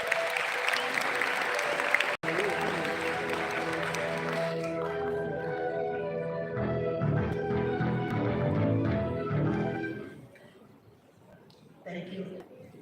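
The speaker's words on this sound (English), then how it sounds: "Ladies and gentlemen, a huge applause for Ms. Latika Aston." Audience applause fills the hall at an award ceremony, dense and steady at first, then thinning out while a few voices and music-like tones carry on beneath before it fades away.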